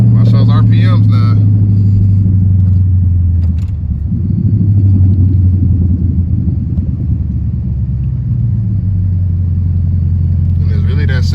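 A 5.7 Hemi V8 rumbles loudly while downshifting, its deep exhaust drone shifting in pitch through the gears, with someone talking over it at the start and end.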